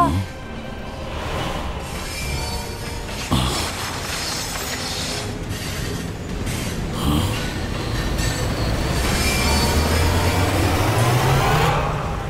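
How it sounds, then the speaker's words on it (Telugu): A train rumbles steadily along the tracks into a waterfall, with rattling wheels and a rising metallic squeal toward the end, loud and close. "ట్రైన్ నీళ్ళ లోపలికి వెళ్ళిపోయింది"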